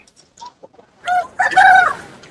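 At a village market in Erode, a rooster held in a net gives a few short clucks, then a loud, close crow rises and trails off.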